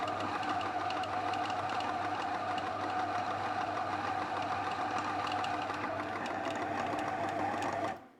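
A Magimix food processor whirring steadily as it mixes shortcrust pastry dough, a loud continuous motor drone with a low hum, running unbroken before cutting off at the end, with no talking.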